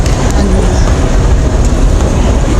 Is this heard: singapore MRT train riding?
yes